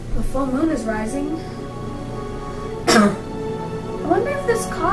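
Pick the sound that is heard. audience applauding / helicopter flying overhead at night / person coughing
person coughing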